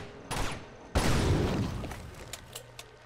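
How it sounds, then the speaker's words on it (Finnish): Gunfire in the video game Uncharted 2: Among Thieves, two sharp shots with the second booming and echoing into a long decaying tail, followed by faint scattered clicks and game effects. "Toi ei varmaan tarvis ampua, mutta mä nyt ammun."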